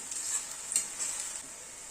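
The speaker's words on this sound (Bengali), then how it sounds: "পেঁয়াজটাকে ভাজতে হবে।" Onions frying in hot oil in a pan while being stirred, a steady close sizzle with soft scraping strokes of the spoon, no voices.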